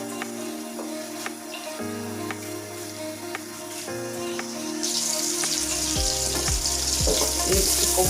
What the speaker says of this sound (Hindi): इसको ब्राउन होने तक हिलाते हैं।